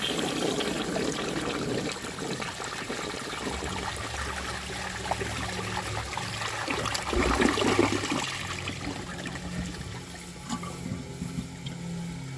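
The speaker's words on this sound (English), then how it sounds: "So let's see how this flushes and how it does on tests." A 1959 Standard Cadet toilet with an old style flush valve flushes in a long, steady rush of water that swells midway and keeps running and refilling throughout, heard alone at close range.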